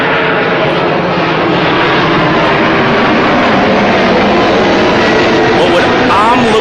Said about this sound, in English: The plane flying way to the top.